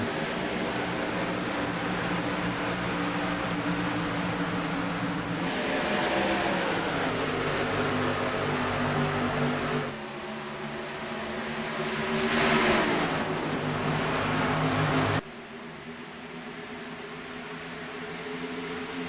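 Virtual race cars roar around Atlanta Motor Speedway in the Rivalz Blacktop Series racing game, a steady loud engine drone with pitch sweeps as cars shift and pass, continuous throughout with no talk.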